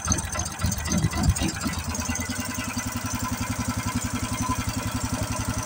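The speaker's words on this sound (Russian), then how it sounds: "Как видно, двигатель запустился с первого раза." A snow tow unit's small engine fitted with a K-68 carburetor, settling into a steady idle after an uneven start, its rapid even chugging pulses close and continuous throughout.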